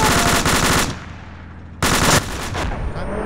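Heavy gunfire from a tank video game, loud rapid bursts of automatic fire that break off, leave a low rumbling lull, then resume with another dense volley.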